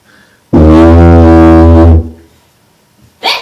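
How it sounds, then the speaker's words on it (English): Didgeridoo blown in one loud, deep, buzzing drone of about a second and a half, close and alone, followed by quiet and a brief burst at the end. "That's the sound of a didgeridoo."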